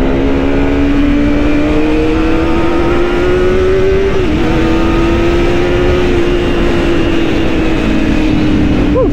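A Kawasaki ZX25R inline-four motorcycle revs high and steady, heard loud and close as the whine holds near a constant pitch with one brief dip and recovery midway.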